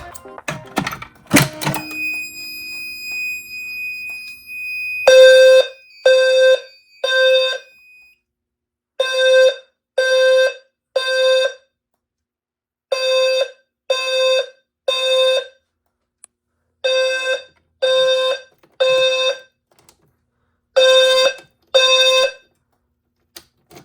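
A loud fire alarm horn strobe (BG12 test) blasts in short repeated bursts, grouped in threes with pauses between sets, after a brief clatter at the start.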